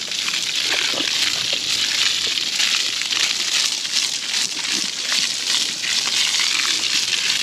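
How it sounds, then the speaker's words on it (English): A garden hose sprays water over dogs on a hot day, a continuous rushing splash with uneven sloshing bursts, close and fairly loud. "We come out and we get hosed down multiple times a day."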